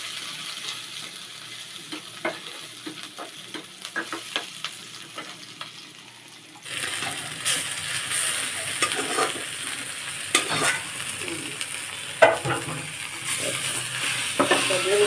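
Garlic and a green chili fry in a pan with a soft sizzle and frequent stirring clicks, swelling into a louder, denser crackle partway through as stirring continues.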